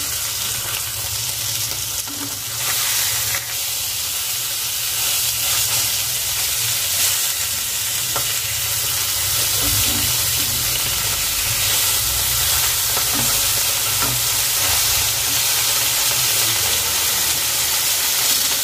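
Fish sizzles in hot oil in a kadai after being flipped to fry the other side, a loud, steady crackling hiss with occasional louder pops, heard alone.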